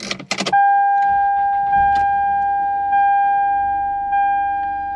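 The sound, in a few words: car engine cranking after reconnecting battery terminals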